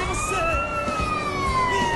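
Police siren in the multiplayer video game GTA San Andreas, a steady wailing tone held throughout over rumbling game noise, moderately loud with no talk.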